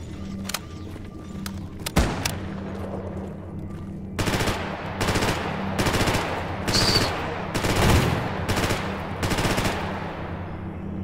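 Loud, near gunfire: a few sharp single shots at first, then repeated automatic bursts of rapid fire, each lasting around half a second, separated by short gaps.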